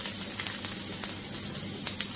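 Chopped onion hitting a hot pan for a spicy mushroom varuval, giving a steady soft sizzle with faint crackles throughout, moderately quiet and close, no talking.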